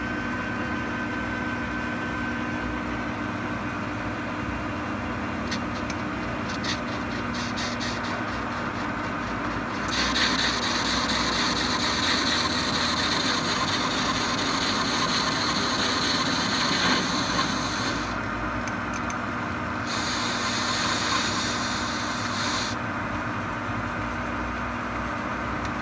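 Lathe taking a facing cut on the end of a 3/4-inch metal workpiece for a Quorn tool grinder work head base, a steady mechanical hum and whir that grows harsher and louder midway, with no talking.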